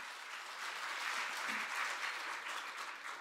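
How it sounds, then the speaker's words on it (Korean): A congregation claps for the worship team during a special early-morning prayer service at a Baptist church, a faint, even wash of applause that holds steadily for a few seconds. "우리 수고해 주시는 찬양단을 위해서 한번 크게 격려의 박수 부탁드리겠습니다"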